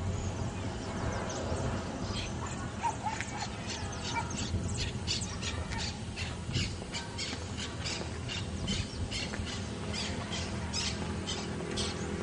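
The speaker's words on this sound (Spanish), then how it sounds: "además de los gritos de los loros" Parrots screeching outdoors at a rest stop in Merlo, a dense, continuous chorus of harsh squawks from many birds at mid distance, with faint background noise.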